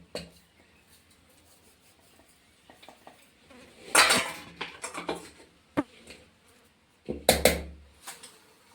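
Curd being mixed with ground sugar in a pot while making shrikhand at home, giving irregular scraping and clinking of a spoon against the vessel, with two louder bursts of stirring amid quieter taps.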